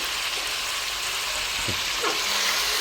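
Chicken with turmeric and ginger paste sizzles steadily in a pan, with a few soft scraping stirs over the continuous frying hiss; no talking.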